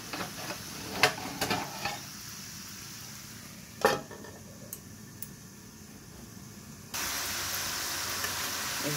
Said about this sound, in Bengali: এই যে এখন ভেজে নিচ্ছে সুন্দর করে